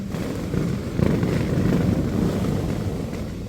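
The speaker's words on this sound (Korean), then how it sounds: "바람 소리 들리시죠?" Steady wind blusters and buffets the microphone throughout in Sokcho, South Korea, a low rushing roar with gusts rising and falling.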